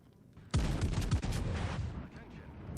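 Naval ship guns fire in a video game as a warship shoots at a destroyer, a loud sudden boom followed by several rapid heavy thuds and a long rumbling decay.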